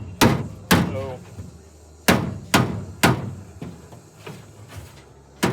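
Sharp metallic hammer strikes on torch-heated metal, restoring a rusty 1959 Ford Galaxie, land one after another in an uneven rhythm, each ringing briefly before the next blow, close and loud.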